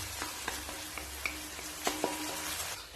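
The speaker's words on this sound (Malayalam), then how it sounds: "തക്കാളി സവാള എല്ലാം നന്നായിട്ട് വഴണ്ട് വന്നിട്ടുണ്ട്" Tomato and onion sautéing in a pan, a steady close sizzle with irregular clicks and scrapes of a spatula stirring, a few sharper knocks near the end.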